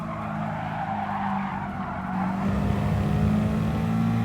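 Race car tires skidding and squealing in the Gran Turismo Sport video game during a 4WD challenge, a continuous loud slide over steady engine drone lasting a few seconds.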